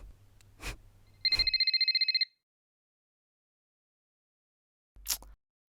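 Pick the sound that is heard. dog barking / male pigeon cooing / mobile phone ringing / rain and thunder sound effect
mobile phone ringing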